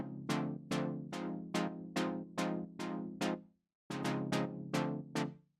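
Synth chords for the drop of a future beat play in a choppy rhythmic pattern of plucky stabs with fast decays. After a short gap, the stabs return in a tighter cluster.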